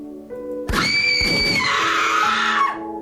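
A loud, sustained scream rings out in the horror video game The Letter, rising sharply and holding its pitch for about two seconds before breaking off, over a quiet musical background.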